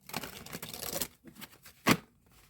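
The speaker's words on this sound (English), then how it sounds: "while I'm shuffling these cards" Close-up flurry of tarot card shuffling: quick papery riffles and slaps in bursts, ending with a sharp snap, then quiet.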